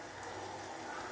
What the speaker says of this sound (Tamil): நல்லா கொதிச்சு இப்படி நொற நுறையாக வருதுங்க